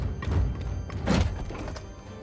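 A grenade landing in Warhammer 40,000: Chaos Gate – Daemonhunters: a few dull, muffled thunks and thuds at moderate volume, with a heavier impact in the middle.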